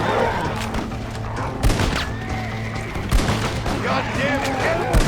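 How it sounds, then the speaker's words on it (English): In Red Dead Redemption: Undead Nightmare, a sawed-off shotgun fires several sharp, booming blasts at irregular intervals. The shots come amid horse whinnies and a dense game soundscape, with a voice talking over them. "The sawed-off shotgun does seem to be pretty effective at dispatching them"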